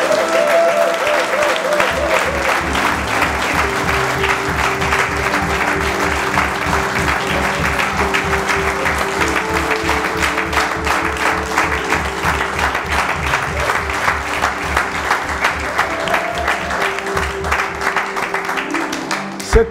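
A church congregation claps and applauds steadily for the word of God during a service, a dense, continuous ovation filling the room from start to finish with no talk over it.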